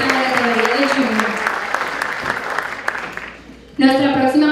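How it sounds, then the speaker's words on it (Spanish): An audience at a Miss Cuba US pageant gala applauds strongly for a contestant, crisp sharp claps that taper off before a host's voice breaks in loudly near the end. "Un aplauso fuerte para Manzanillo."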